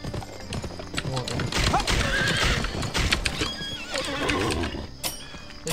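Horse whinnies and clip-clopping hooves from the Western video game Gun, loud and busy with overlapping game sounds, a neigh standing out near the middle, hoofbeats continuing throughout.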